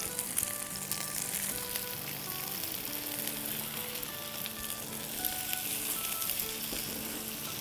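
A burger patty fries in a pan, giving a steady, dense sizzle that holds at an even level from start to finish, close and without talk, while faint tonal beeps sound in the background.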